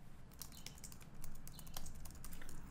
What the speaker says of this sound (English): I'm just going to try to type hello world.